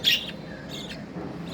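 Newly hatched budgerigar chicks give a few short, high, thin chirps, a brighter one at the start and softer ones later, faint against a low background hum.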